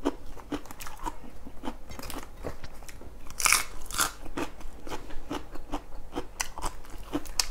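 Crunchy fresh Thai vegetables eaten with fish laab, chewed close to the mic: repeated loud crisp bites and crunches in an irregular rhythm, with no talk.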